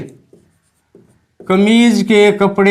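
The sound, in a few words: writing on a board during a maths lesson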